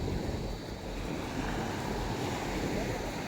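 Sea waves washing in a continuous rushing surge, with wind buffeting the microphone and no clear speech over the steady noise.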